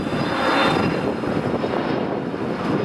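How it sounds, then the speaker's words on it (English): Airplane flying overhead on a summer day in New York, a steady broad roar of engine noise filling the air without any voices. "Planes flying in the sky."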